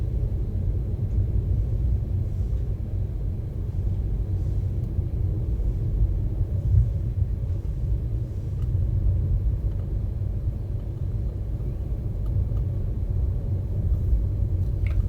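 A car rolls down the middle of a dark road, a steady low rumble of engine and tyres holding even throughout, close and unbroken, with no voices.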